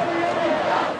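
Protesters in Tahrir Square form a dense, roaring crowd, with shouting and chanting merging into one continuous wash of voices that fades slightly at the end.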